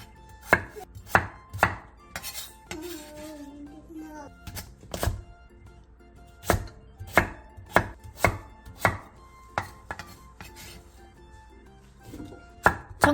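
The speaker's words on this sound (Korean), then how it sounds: "애호박 2분의 1개, 양파 1개, 감자 1개, 고구마 1개를 먹기 좋은 크기로 큼직하게 잘라주세요." A kitchen knife chops half a zucchini, an onion, a potato and a sweet potato into large chunks on a cutting board, making a steady series of close, crisp thuds at an uneven rhythm.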